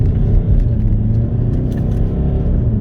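A Jaguar XF 2.2 Portfolio pulling away and gaining speed, heard from inside the cabin as a loud, steady engine rumble and road drone that holds without break.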